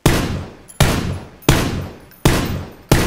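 Four loud, evenly spaced gunshots ring out in PUBG, each a sharp crack that decays quickly before the next one lands, with no talking.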